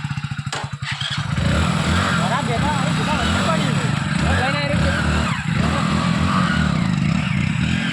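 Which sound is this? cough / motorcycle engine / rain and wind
motorcycle engine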